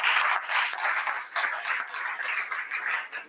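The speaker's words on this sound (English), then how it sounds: "Can we give a round of applause again?" A workshop audience gives steady applause, with many hands clapping together in a dense, even patter that lasts a few seconds.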